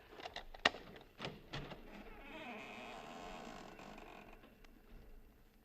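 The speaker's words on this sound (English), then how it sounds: "Maybe you heard the hinge squeak a little." A front door swings open on a creaky hinge, a drawn-out squeaking groan after a few sharp clicks and knocks, heard close and fairly quiet with no talk.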